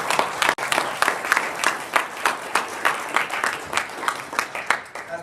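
A crowd gives a round of applause for a woman just arriving at a Super Saturday event, the clapping steady and fairly loud throughout with crowd noise mixed in.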